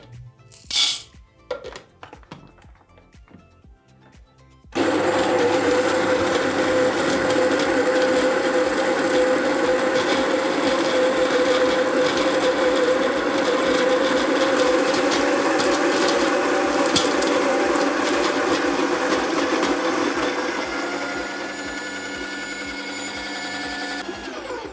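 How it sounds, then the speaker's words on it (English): Baratza Encore ESP espresso grinder grinding a 20 gram dose of coffee beans on an espresso setting: a few light clicks and rattles, then a loud, steady whirring grind for about fifteen seconds that eases slightly near the end. "in real time right now, we're gonna grind out a 20 gram dose of beans"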